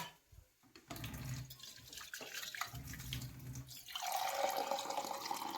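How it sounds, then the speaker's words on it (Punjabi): Water pours steadily and close by into a pan for Maggi noodles, a continuous splashing rush that grows fuller toward the end, with no talking. "ਹੁਣ ਆਪਾਂ ਪਾਉਣ ਗਏ ਆ ਪਾਣੀ"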